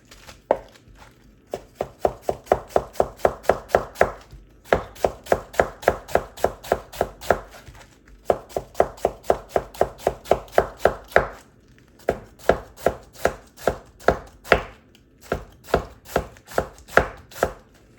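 An 8-inch chef knife chops cabbage on a board in quick, even bursts of sharp thuds, several runs of rapid strokes separated by short pauses, close and clear with no talking.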